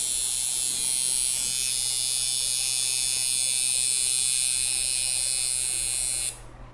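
A coil machine with an armature bar runs with a steady, bright electric buzz, constant and close, over a low hum, stopping abruptly near the end.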